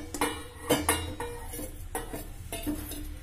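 Roasted semolina scraped out of a pan into a bowl, heard as a series of close metallic scrapes and clinks of a spoon against cookware, repeating at irregular intervals.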